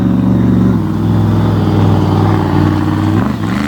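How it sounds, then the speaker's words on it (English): The Bucking Bronco monster truck's engine roars loud and close at a 2021 monster truck show in Bangor, Maine, holding a heavy, sustained drone under hard throttle with a slight dip near the end. "Using up just about everything that engine had."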